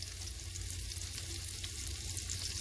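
Chopped onions sizzling in a pan with salt and pepper, a dense, even frying hiss close up that stays constant with no talking.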